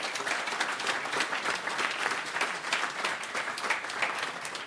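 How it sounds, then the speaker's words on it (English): An audience at a conference on open innovation in Europe applauds the panelists with continuous, even clapping that holds steady from start to finish. "A big applause to the"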